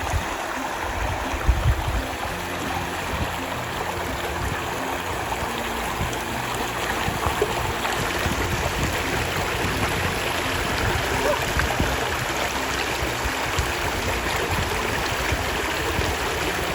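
Troll Falls waterfall in Kananaskis, Canada, a steady broadband rush of falling water heard close and loud, continuous for the whole stretch with no talking.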